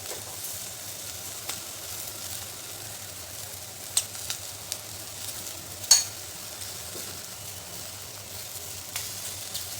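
Turmeric and red chili powder sizzle in a pan of roasted vegetables for a no-onion, no-garlic dish: a soft, steady frying hiss with a few sharp spoon clicks, no talking.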